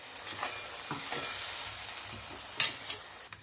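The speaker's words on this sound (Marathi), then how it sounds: "हे पेस्ट छान कमी गॅसवर भाजून घ्यायचं आहे आपल्याला" Onion masala paste roasts on a low gas flame with a quiet, steady sizzle and hiss, broken by occasional stirring scrapes and one sharper clink near the end.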